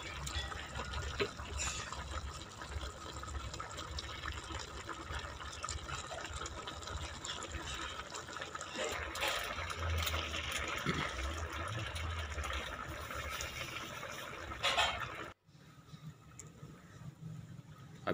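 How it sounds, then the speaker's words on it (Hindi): Water poured into a cooking pot for chicken, a continuous gushing fill with splashing that runs for about fifteen seconds before stopping abruptly, followed by quieter room sound. "पानी इतना डालना है कि चिकन अच्छे से रेडी हो जाए।"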